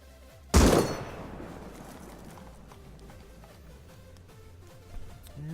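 A single sharp, loud gunshot from a rifle fitted with attachments in the video game Rust, followed by a fading echo, soft ambient noise and a fainter thud near the end.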